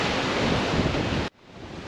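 Wind blows in from the sea on a stony Italian coast, a dense rushing roar with buffeting on the microphone that cuts off abruptly partway through, then returns more faintly.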